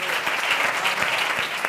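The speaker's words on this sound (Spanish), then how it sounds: "le diéramos un aplauso más que a ella a él" Audience at a cancer awareness conference in Coria del Río clapping for a woman's husband, a brief burst of steady, moderately loud applause from a seated crowd with a few sharper individual claps standing out.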